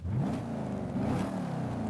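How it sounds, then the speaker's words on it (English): Stock exhaust on an Audi in Forza Horizon 5 revs steadily, a loud, continuous engine drone with small rises in pitch, close and alone with no talk. "Okay, now stock exhaust."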